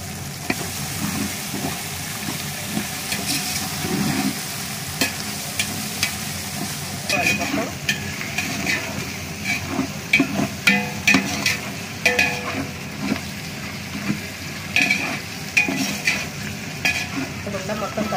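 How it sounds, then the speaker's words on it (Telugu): Tomatoes and green chillies stirred and fried in a pot for chicken biryani: continuous close sizzling with irregular scraping and clattering stirring strokes that grow busier partway through. "ఈ టమాటాలు, ఈ పచ్చిమిరపకాయలు ఇవన్నీ వేగాలి।"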